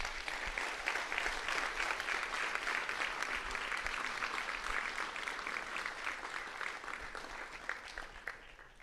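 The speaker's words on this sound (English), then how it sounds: "Let's give Daniel a round of applause." A sustained round of applause from the audience at a school district employee recognition ceremony, many hands clapping in a steady, dense wash for several seconds, moderately distant and without speech over it.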